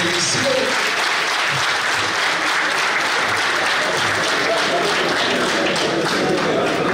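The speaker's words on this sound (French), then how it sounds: "Est-ce qu'on peut applaudir ça, s'il vous plaît?" A studio audience applauds at a televised sports show in Cotonou, with dense, loud, continuous clapping that fills the whole stretch and a voice faintly mixed in.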